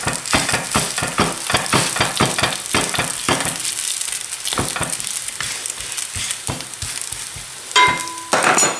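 A msemen crêpe sizzles on medium heat in a pan, a steady frying hiss broken by repeated light taps and scrapes of a fork pressing the edges, with a few clinks near the end.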